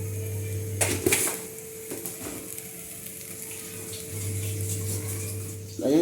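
Hot water poured into a chicken biryani pot, giving a steady sizzle and watery hiss that swells near the start and again toward the end, close and fairly loud.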